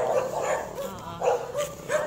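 A dog barks several times outdoors in a residential subdivision, with short loud yips and barks coming in uneven bursts close by, and no talking.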